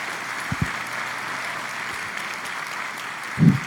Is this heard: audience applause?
yes